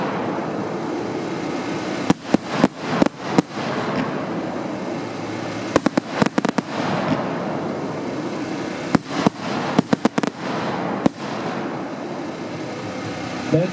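A Freedom 50-shot fan firework assortment fires in loud rapid bursts, clusters of sharp bangs separated by short gaps over a steady crackling, fizzing background.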